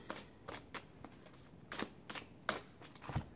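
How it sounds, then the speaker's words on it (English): Psychic tarot cards are shuffled by hand in a quiet room, a series of soft crisp riffles and taps coming in irregular bursts, close but faint, with no talking. "So let's go ahead and finish shuffling so I can pull for you guys."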